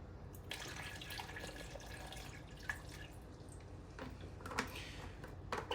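Water pours into a blender jar for a fruit smoothie, a soft trickling splash with a few drips. It is faint and close, and no one talks over it.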